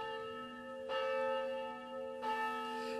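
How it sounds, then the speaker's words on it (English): Church bells ring out in front of Santa Barbara's historic Old Mission at six o'clock, two clear strikes with a long sustained humming resonance between them, heard at a moderate distance. "we're hearing those unifying bells once again here at 6 o'clock in front of Santa Barbara's historic Old Mission"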